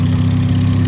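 Mazda RX7 rotary engine with a T04R turbo, idling steadily up close with a deep, even drone and a faint ticking from an exhaust leak at the header.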